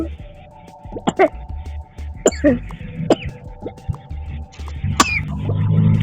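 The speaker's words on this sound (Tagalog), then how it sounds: "inuubo lang ako" Several short bursts of coughing break out over a few seconds, near and moderately loud, against a background hum.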